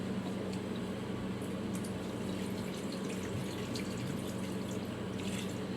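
Water poured from a water bottle into a pot of homemade soup, a steady, continuous splashing and trickling pour close up, heard alone without talk.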